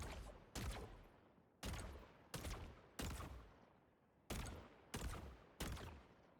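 In Helldivers 2, the Talon weapon fires eight sharp, loud blasts at a slow, roughly even pace. Each shot trails off into a decaying tail before the next, and no one speaks.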